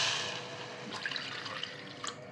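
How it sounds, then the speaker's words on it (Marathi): Water pours into a pressure cooker container holding urad dal, a steady quiet splashing stream with a few brighter drip-like spatters near the end, close by and with no voices. "डाळ कुकरच्या डब्यात काढली की त्यात ना आपल्याला दुप्पट पाणी टाकायचं"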